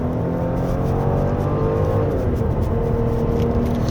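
A deep, smooth engine tone from a 2024 Genesis G90 with a 48-volt electric supercharger and AWD, active sound design in comfort mode, on a winding road. The drone is steady and close, rising slightly in pitch midway, with no talking.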